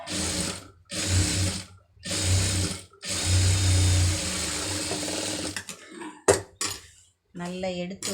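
A sewing machine stitches through folded fabric in several loud, steady running bursts separated by short pauses, followed by some handling clatter and a voice speaking near the end.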